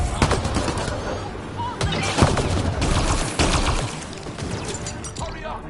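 Rapid gunfire in the sci-fi game Mass Effect Andromeda: loud, dense bursts of shots crackle repeatedly in close succession through a busy firefight.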